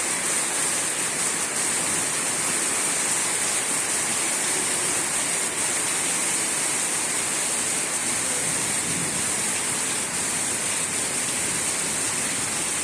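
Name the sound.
heavy rain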